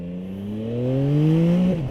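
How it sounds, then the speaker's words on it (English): A 2025 Yamaha MT-09 SP motorcycle engine revs upward under hard acceleration, its loud, close whine climbing steadily in pitch before a brief shift-like dip at the end. "this bike accelerates like a mule, and the front wheel definitely likes to jump up"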